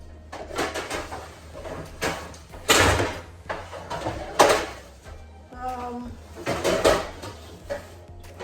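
Someone rummaging through a cluttered kitchen cupboard for a small pan, with a series of clanks, knocks and scrapes of metal cookware, a few louder thumps and a brief ringing tone, while a voice speaks at times.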